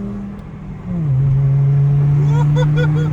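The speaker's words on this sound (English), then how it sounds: "Listen to that exhaust. That really sounds good." Volkswagen 07K 2.5L inline-five with a muffler-delete, straight-piped exhaust, accelerating from a car: a loud, steady engine drone that rises in pitch and holds strong, with people talking over it near the end.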